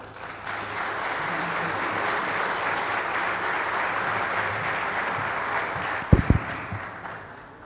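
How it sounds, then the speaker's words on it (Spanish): An audience at a seismic-engineering lecture applauds a visiting doctor, sustained even clapping that swells in and holds, with a couple of sharp thumps near the end. "les pido un fuerte aplauso para el doctor"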